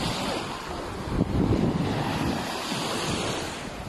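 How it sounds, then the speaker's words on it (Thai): Surf washing onto Jomtien Beach in Pattaya on a morning in October 2020, a continuous broad wash of breaking waves with wind rumbling across the microphone and a louder surge partway through. "อันนี้เขาเรียกว่าหาดจอมเทียนนะคะ"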